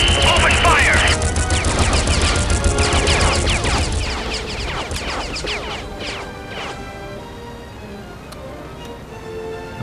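Zeppelin turret cannons fire in a video game battle, a dense barrage of loud booming shots and crashes for about six seconds that tails off into a quieter rumble, with voices over the action.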